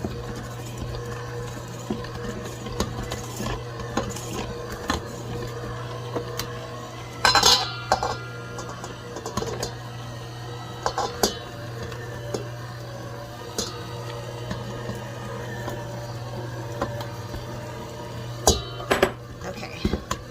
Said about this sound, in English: slowly add in your 1/2 cup of melted butter